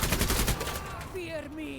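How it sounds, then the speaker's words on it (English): Rapid machine gun fire in the video game Menace, a dense burst of loud, close shots for about half a second, followed by fading reverberant tail and faint tonal game sounds. "just grab that happy little machine gun and start shooting"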